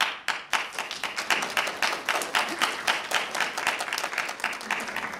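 Applause and clapping from a conference audience at a keynote session, a steady crowded patter of many hands holding fairly even for several seconds with no voices over it.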